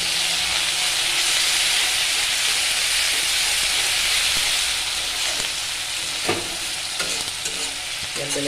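Fish curry with raw bamboo shoot being stirred in a hot pan, steady loud sizzling and hiss close up, easing slightly later with a few scraping knocks of the spoon against the pan.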